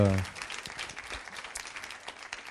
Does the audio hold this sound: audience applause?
yes